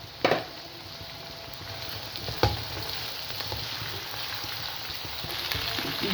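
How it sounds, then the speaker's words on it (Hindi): Okra dropped into a pan of fried onions, hissing in a steady close sizzle with a couple of sharp clatters near the start and midway, no voices. "अब इसको भिंडियों को मैं डालती हूँ।"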